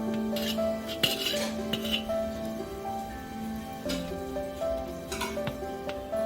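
A spoon scraping the pulp out of drumstick pieces for a drumstick pickle, repeated close scrapes and metallic clinks against a dish with faint background tones.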